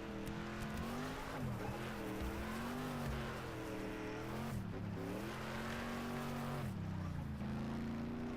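A car drifting in the Next Car Game video game, its engine droning steadily while tires squeal in long wavering sweeps that bend up and down, loud and continuous, with no talking.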